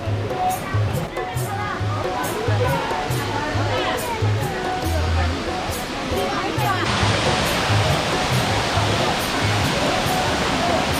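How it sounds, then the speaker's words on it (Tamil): Rushing water flowing at a misty spot in Tirumala, a high water flow blocked off at this point, a loud broadband roar holding throughout, with someone talking over it. "இங்கே பாருங்களா தண்ணி ஓடுது."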